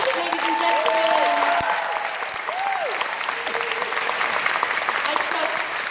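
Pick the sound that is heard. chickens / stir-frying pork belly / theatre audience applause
theatre audience applause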